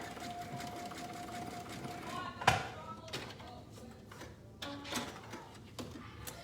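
A sewing machine zigzag-stitches overlapped swimsuit elastic into a loop, a soft mechanical whir that runs in short bursts, with clicks and a sharp knock in the middle.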